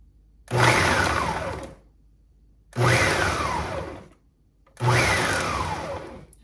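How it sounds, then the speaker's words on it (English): A blender on its chop setting cuts up seasoning leaves in three separate loud pulses of about a second each, every one a whirring motor burst that dips in pitch as it strains, with short quiet gaps between. "I am going to put the blender on chop"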